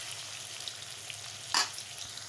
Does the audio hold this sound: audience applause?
no